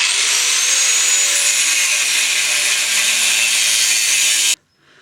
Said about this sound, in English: Get your angle grinder.